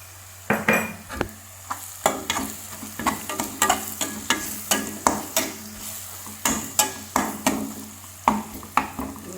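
Okra fries in a pan with ground coriander, a close, continuous sizzle broken by frequent sharp scrapes and clinks of a spatula against the pan in quick uneven strokes, with no talking.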